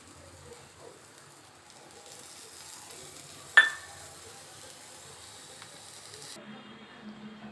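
Oil sizzles faintly in a pan under an onion moong dal dosa (pesarattu), a quiet, steady hiss broken by one sharp clatter midway.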